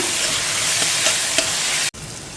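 Steady loud sizzling and frying of onions and tomatoes in a pan, with occasional stirring scrapes, briefly cut off near the end.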